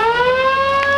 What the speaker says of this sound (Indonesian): kasih aplaus untuk pendengaran sirine sebagai awal dimulainya pengisian awal bendungan Randu Gunting Kabupaten Blora